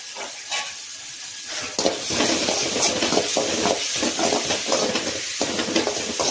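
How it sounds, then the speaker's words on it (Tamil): Raw papaya stir-fry sizzles loudly in a pan, a dense continuous frying hiss with repeated scraping stir strokes, close and without speech. "நல்லா ஃப்ரை பண்ணி எடுத்துக்கலாம்"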